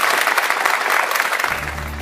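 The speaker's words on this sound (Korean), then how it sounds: "여러분 큰 박수로 환영해 주십시오." An audience claps to welcome a university president onto a televised lecture stage, a dense, loud burst of applause that continues steadily for about two seconds, with a low rumble coming in near the end.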